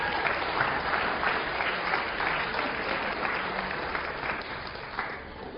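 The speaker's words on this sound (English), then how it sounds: "can you get a round of applause for Li Xing Chang?" Steady audience applause for a birthday volunteer being called on stage at a game theory lecture, a dense wash of many hands clapping that holds for several seconds and eases slightly toward the end.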